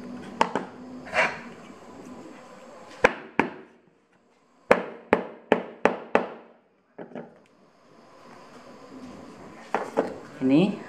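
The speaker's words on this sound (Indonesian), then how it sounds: "Dan setelah seperti ini, kita ketok lagi ya." Sharp hammer taps on a mule high-heel shoe during shoemaking, a quick run of about five close knocks after a couple of isolated strikes, with talk before and after.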